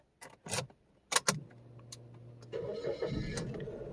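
Keys jangle and click a few times before a Suzuki Celerio's engine cranks and catches, then settles into a steady idle nearby, with no one speaking.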